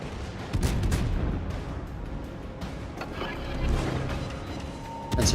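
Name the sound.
warship gunfire in a naval video game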